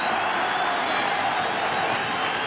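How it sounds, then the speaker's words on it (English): St Mirren football supporters in a Scottish Cup quarter-final crowd against Dundee United give a warm, steady round of applause, a dense even wash of clapping that holds at one level throughout. "A nice warm round of applause from the St. Mirren supporters."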